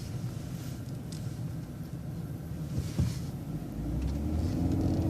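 A city bus rolls along East Huron Street in Ann Arbor on Route 17, giving a steady low engine rumble with road noise that swells slightly as it accelerates near the end, with no talking.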